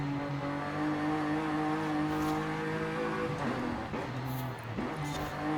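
A Toyota Camry engine revs steadily in the racing game Forza Horizon 5, a continuous droning motor tone with shifting pitch and a brief tire-squeal-like sweep toward the end, with no talk over it.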